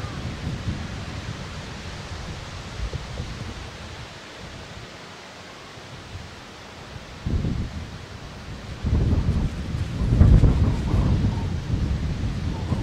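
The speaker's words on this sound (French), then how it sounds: "Oh, bien fort le vent." Strong gusting wind blows outdoors during a violent September windstorm, a broad steady roar that surges louder in bursts toward the end.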